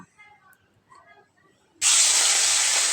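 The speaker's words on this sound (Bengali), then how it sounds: "এই যে তিন পিস মাছ তো এটা আমি এখন কড়াইতে ভেজে নেব" Three pieces of fish are dropped into hot oil in a wok and burst into a loud, steady frying hiss that runs to the end. Faint voice sounds and quiet kitchen noise come before it.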